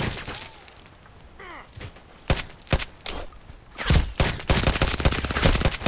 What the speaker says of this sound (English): Okay, four shots.